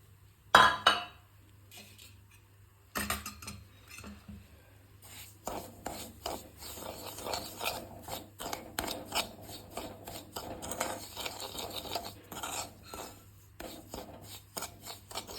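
Semolina (rava) roasting in a little oil on low flame, stirred in a pan, gives a steady close scraping and rasping with light metallic clinks from the spoon, continuous throughout.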